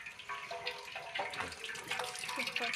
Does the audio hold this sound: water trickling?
yes